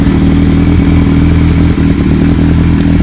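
A 1975 Kawasaki Z1900 motorcycle runs loud and close, its engine holding a steady, throbbing drone with a rough, clattery edge and slight rises in pitch as it rides along.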